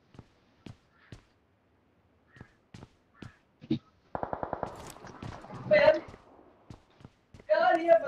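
Gunfire in the mobile battle royale game PUBG Mobile: scattered single shots early on, then a rapid automatic burst and further distant shots, with a player's voice talking over parts of it.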